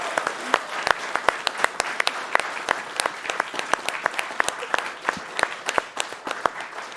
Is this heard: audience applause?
yes